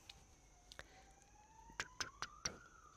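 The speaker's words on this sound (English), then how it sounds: "Oh, here comes another ambulance. You probably can hear it." A faint ambulance siren rises in pitch in the distance while a few sharp clicks and taps sound nearby.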